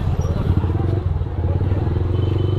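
A motorbike engine chugs loudly and steadily while inching through a dense crowd at a Ganesh temple in Indore, with clatter and crowd noise around it.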